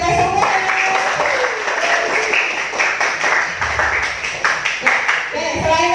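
Participants in an online teacher-training class applaud together, a steady wash of clapping that runs the whole time and mixes with a voice talking over it.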